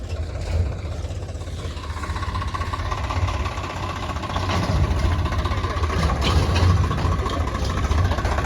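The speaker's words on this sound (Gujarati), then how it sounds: "આ ટ્રેક્ટર જ કરશે હવે ચાલુ." A tractor engine in the Gujarat Farming Simulator game chugs at a steady idle, a loud low throbbing drone that builds slightly toward the end with no pauses.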